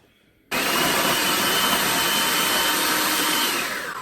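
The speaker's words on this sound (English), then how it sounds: "we're gonna throw it into the food processor along with our veggies" Food processor chopping cooked sirloin steak with vegetables, a loud steady whirring roar that starts abruptly after a brief quiet moment and runs continuously, easing slightly at the end.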